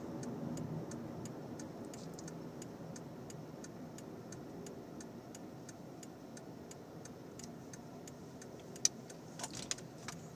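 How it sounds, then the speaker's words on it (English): A car's turn signal ticks steadily at a regular, even rhythm inside the cabin, quiet over a low road and engine rumble, with a couple of faint clicks near the end and no talk. "I'm going to turn my blinker on so that I can turn left."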